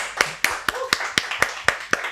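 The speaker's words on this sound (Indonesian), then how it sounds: "Tepuk tangan lagi buat Tio." Hand claps at a steady rhythm, about ten sharp, close claps during an Indonesian podcast, applauding a guest named Tio, with some faint voices underneath.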